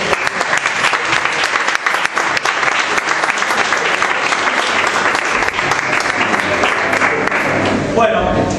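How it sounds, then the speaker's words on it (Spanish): Sustained applause from an audience at a squash tournament award ceremony, honoring the main sponsor; dense, steady clapping fills the whole stretch and begins to thin out near the end. "quiero pedir un aplauso para la gente de Gama"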